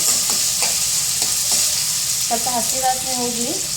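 Khichdi masala frying in oil on a low flame, a continuous close sizzle with a few soft scraping stirs early on and a faint tonal squeak near the end.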